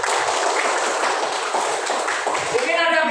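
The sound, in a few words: audience clapping hands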